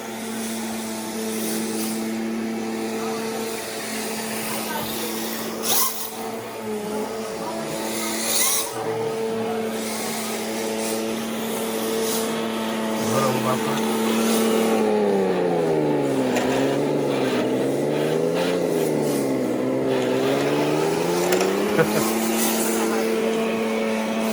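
A continuous synthetic engine rumble from a 1:16 Heng Long German Panther RC tank, a droning hum that revs up and down in pitch midway, amid faint voices and background noise.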